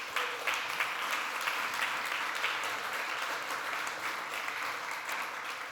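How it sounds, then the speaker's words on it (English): A crowd applauds loudly and steadily, the dense clapping holding at an even level from start to finish with no voices standing out. "would you please give them a round of applause to push up the energy?"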